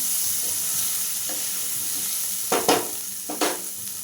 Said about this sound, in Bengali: আরও একটু দু মিনিট মতন ভেজে নেব টমেটো দিয়ে দিলাম